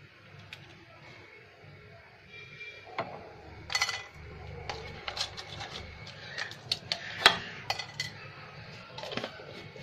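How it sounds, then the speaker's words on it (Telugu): Small cinnamon stick pieces dropped into a dry pan and roasting for a mutton gravy curry, giving scattered light clinks and scrapes against metal, faint and close, with quiet kitchen background and no talk. "ఇందులో కొద్దిగా దాల్చిన చెక్క ఇంత వేస్తున్నాను"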